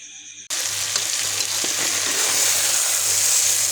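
Vegetable curry with mustard paste being stirred in a hot pan, a steady loud sizzle and frying hiss that begins abruptly and continues, with faint scraping of the spoon beneath.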